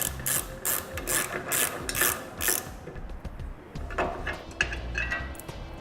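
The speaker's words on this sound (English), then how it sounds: "We're going to remove this bolt with a 17mm socket." A ratchet wrench with a 17mm socket clicks rapidly in about seven close, bright bursts, loosening a bolt on the bumper crossbeam of a 2018 Toyota, then scattered lighter metallic taps and handling noise follow.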